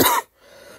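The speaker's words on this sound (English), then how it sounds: "I have this cough that's just lingering" A single short, sharp cough close by, followed by quiet.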